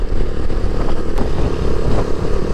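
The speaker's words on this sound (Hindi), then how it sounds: "बच्चे हैरान होकर देख रहे हैं कि भाई ये इतनी बाइक साज जा कहाँ रही है" Motorcycles ride past in a line on a rural road in Balochistan, a loud, continuous, buzzing engine roar that stays close throughout.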